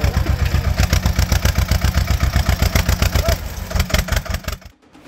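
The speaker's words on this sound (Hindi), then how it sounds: "ये ट्रैक्टर सीढ़ियों पर तेजी से चढ़ रहा है" A goods-laden tractor climbing stone stairs on the route to Kedarnath, its engine chugging in a steady rapid rhythm, loud and close, then sputtering and cutting out near the end.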